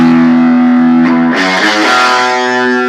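Electric guitar with the distortion effect on, hard rock tone: a loud, sustained, buzzing chord rings, then a fresh strum hits about a second in and the saturated notes keep ringing, with no voice.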